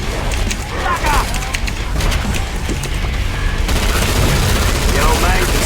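Gunfire in the video game Killing Floor 2 crackles as dense, continuous bursts with heavy booms, a steady loud barrage that plays alongside game noise and a voice talking over it.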